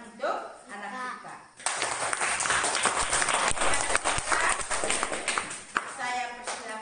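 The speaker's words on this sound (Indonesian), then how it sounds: "Kita tepuk tangan untuk anak Tika." Children in a classroom burst into a round of clapping that lasts several seconds, dense and fairly loud, with a voice talking just before and after it.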